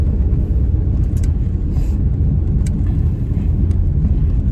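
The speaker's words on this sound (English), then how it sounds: "In the car, and I am driving now" Steady low road rumble from inside a moving car, engine and tyre noise droning continuously and fairly loud with no talk.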